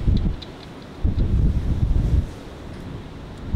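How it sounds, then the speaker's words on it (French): Strong typhoon wind in Japan at night buffets the microphone in heavy, rumbling gusts that surge and ease, loudest near the start and middle, with no one talking. "Il y a énormément de vent."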